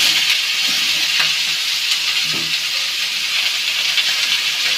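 Ash gourd frying in a pan with green chilli, onion, tomato and cumin, giving a steady, close hiss and sizzle that runs unbroken throughout, with faint stirring clicks.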